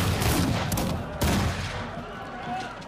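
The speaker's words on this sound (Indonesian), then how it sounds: "Mereka membunyikan tembakan peringatan." A burst of warning gunfire in Grand Theft Auto V, sharp cracks early on, then a louder shot midway, fading into a noisy background rumble.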